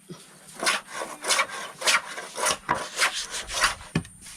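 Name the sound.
scraping and sanding driftwood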